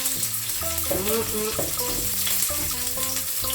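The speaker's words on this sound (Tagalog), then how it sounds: "Gisahon na to ang ahos o sibuyas." Garlic and onion sauté in a pan with a steady close sizzle, while music with clear tones plays over it throughout.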